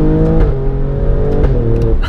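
A 510 hp Alfa Romeo Stelvio Quadrifoglio's engine revving with a manual transmission, a loud, close, throaty drone that rises and holds with small pitch shifts, no talk over it.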